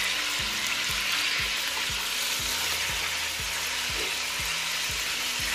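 Beef shank frying in butter and oil, a steady dense sizzle with regular low knocking hums running throughout, close and loud with no talking.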